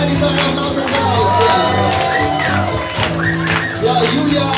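A guitar school's acoustic night crowd applauds a guitar performer, with clapping, shouts and whoops mixed over ongoing music and voices, loud and steady for the full length.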